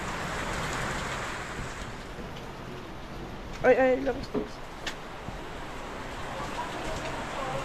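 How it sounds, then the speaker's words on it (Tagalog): Heavy rain pours in a steady, unbroken hiss at dawn or late afternoon in the Philippines, loud and close throughout, with a brief spoken exclamation partway through. "puro ulan, walang pahingang ulan mga katrops"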